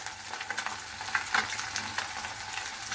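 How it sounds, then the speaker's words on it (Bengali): Garlic, onion and chili frying in oil, a faint steady sizzle with light crackles and occasional stirring taps. "এইসব আমি এখানে তেলের ভিতরে ভেজে নিব ভালোভাবে"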